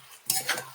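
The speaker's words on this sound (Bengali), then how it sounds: "নেড়ে চেড়ে" Fried cauliflower curry being stirred in a pan, with one or two quick scraping strokes of a spoon against the metal over a faint sizzle.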